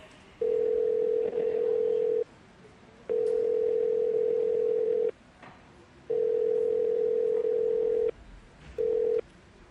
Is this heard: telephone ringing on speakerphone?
yes